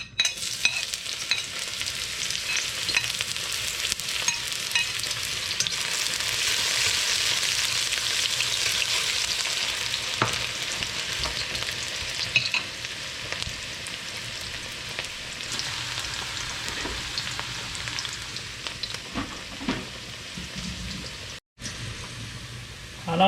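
Onions frying and sizzling in hot oil for Hassar curry, a steady loud hiss with occasional stirring scrapes, briefly dropping out near the end.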